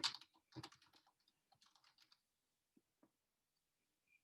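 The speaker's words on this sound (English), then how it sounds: "I'm just going to type in" Computer keyboard typing, a quick burst of keystrokes followed by a few sparse isolated taps, quiet and close with no talk, entering a search into a design program's search bar.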